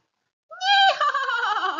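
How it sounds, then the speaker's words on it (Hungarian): A horse's whinny from a Hungarian children's farm-animal lesson: a single high, wavering neigh that swells and then trails off in shaky, descending tones, loud and close with no voices over it. "Nyihogott."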